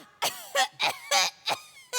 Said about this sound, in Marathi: धुराने येतो खोकला